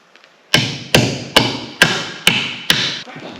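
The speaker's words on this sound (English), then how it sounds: "Might be easiest to put it down on the ground and hammer it in." Tool being hammered into muddy ground outdoors while laying direct burial power wire: six sharp, evenly spaced metallic strikes, close and loud, each decaying quickly, with no talking.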